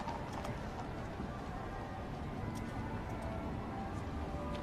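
Horses' hooves clip-clopping as they draw the Queen's carriage back to the saluting base at the 2017 Queen's Birthday Parade on Horse Guards, a steady patter heard amid broad crowd and ceremonial ambience.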